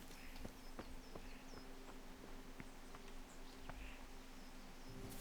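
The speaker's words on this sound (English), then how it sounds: "Horses." Horses in a video game give soft, faint hoof clip-clops and small shuffling sounds, scattered irregularly over a quiet ambient background with no talk.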